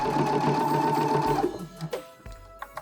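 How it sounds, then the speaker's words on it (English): A sewing machine straight-stitches along the edge of fake fur fabric for a scrunchie, humming in a quick steady run for about a second and a half before stopping, followed by a few light clicks. "I have my fabric wrong sides together and I'm just going to do a straight stitch across the edge here."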